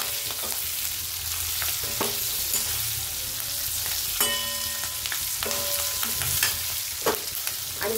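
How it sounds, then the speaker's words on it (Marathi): Stuffed capsicums fry in hot oil for Shimla mirchi bhaji, with a steady sizzle and periodic scraping clinks as they are stirred and turned in the pan. "आणि तेल पण चांगलं गरम झाल्यावरच मिरच्या सोडायच्या"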